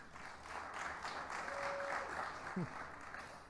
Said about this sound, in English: give Tim a big round of applause